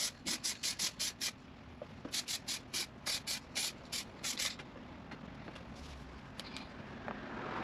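Spray paint hisses from an aerosol can onto a Honda Integra DA7 body panel for a first coat, in quick bursts of short, close, regular passes, then falls to a faint background.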